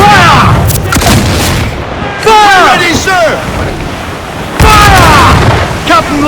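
Ship cannons in Assassin's Creed Black Flag fire in repeated loud, close booms during a naval battle at sea, with shouting crew voices and crashing water around them.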